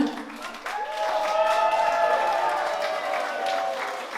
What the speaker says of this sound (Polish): Na wielkie brawa dla niego na zachętę.